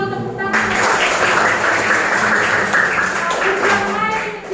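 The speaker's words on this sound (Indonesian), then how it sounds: "Ya, betul, tepuk tangan." A classroom of students applauds together, a dense burst of close clapping that starts abruptly and holds steady for several seconds before easing off, with a voice briefly audible at the edges.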